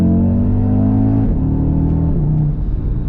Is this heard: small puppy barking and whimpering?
no